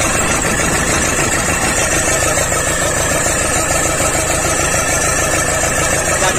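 A 2005 Toyota Hilux engine idles with its third injector misfiring, a loud, close, continuous rumbling chug with steady vibration throughout and no voices.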